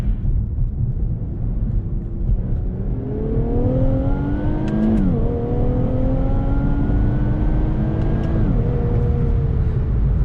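A car with a VR30 engine and an upgraded e-tune makes a quick acceleration pull, its engine note climbing through rising revs and short gear-change dips, loud and steady from inside the cabin, with no talk.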